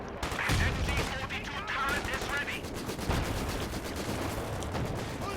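Battle in Company of Heroes 2, with several machine guns covering each other: rapid, sustained bursts of gunfire overlap with heavier blasts, loud and dense without pause for the whole stretch.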